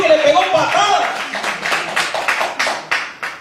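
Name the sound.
congregation applauding in church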